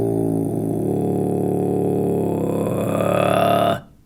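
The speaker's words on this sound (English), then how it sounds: "it might slip into what's called vibration bass" A low, rattling, buzzy drone from a single voice doing vibration bass in throat singing, held steadily for several seconds before cutting off abruptly.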